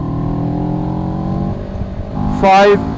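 CFMoto CL-X Sport motorcycle with a 700cc engine accelerating in third gear, a steady engine drone that rises into a brief loud rev near the end, heard close up.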